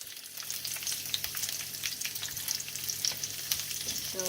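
Garlic, capsicum and onion sauté in a pan, giving a continuous close crackling sizzle with scattered sharp pops and light stirring scrapes throughout, no voices.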